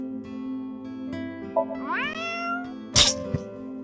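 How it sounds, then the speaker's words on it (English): A single drawn-out meow rising in pitch, voiced toward a lucky cat statue in the video game AI: The Somnium Files, heard over a steady game hum and followed by a sharp bright clink. "If you meow at a lucky cat statue, happiness will come your way."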